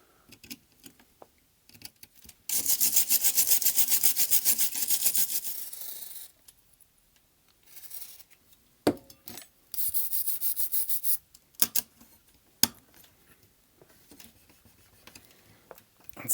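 Corrosion is scrubbed off a socket on a Sinclair ZX Spectrum+ computer, giving several bursts of quiet, close scratchy rubbing between small clicks and taps, with pauses of near silence.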